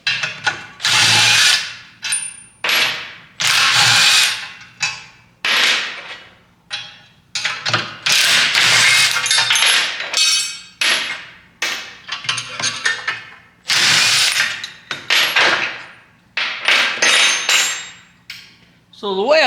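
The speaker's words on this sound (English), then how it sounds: "I'm going to go ahead and pull these bolts out." A power tool, likely an impact wrench, pulls bolts from a Silverado spindle fitted on a 1967 C10 truck, firing in repeated loud rattling bursts of hammering, close up, with brief gaps between pulls.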